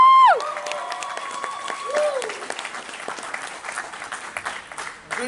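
A convention panel crowd at San Diego Comic-Con claps and cheers for a panelist, sustained applause with scattered whoops and voices mixed in, loud and close throughout.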